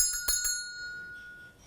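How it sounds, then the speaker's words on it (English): A bell-ringing sound effect: a few rapid, bright metallic dings like a bicycle bell at the start, then one clear tone that rings on and slowly fades, with no talking. "So when Pavlov rang the bell, Anchor thought that he was going to get som"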